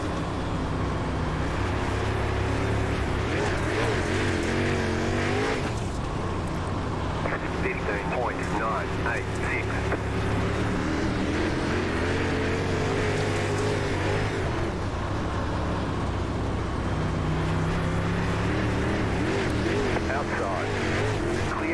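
A dirt late model race car engine in the iRacing game drones at full throttle at Weedsport Speedway, steady and loud with shifting pitch, as a voice talks over it throughout.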